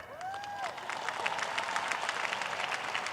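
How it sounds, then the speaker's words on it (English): Audience applause at the John Jay College commencement ceremony in 2025, a dense, steady wash of many hands clapping with some cheering, sustained and fairly loud throughout. "That's right, clap."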